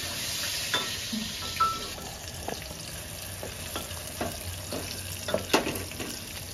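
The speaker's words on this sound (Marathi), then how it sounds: "कांदा थोडं करपून घ्यायचा आहे." Onion frying in a pan until slightly charred, a quiet continuous sizzle broken by soft, irregular clicks and scrapes of stirring, close by with no talking.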